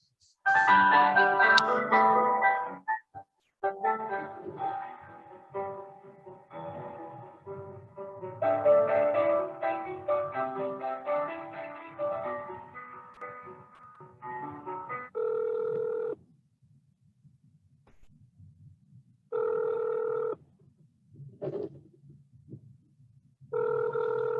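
Telephone hold music plays while a caller waits for the next available associate at a cable company, a tinny looping melody with pauses, followed by short repeated electronic tones.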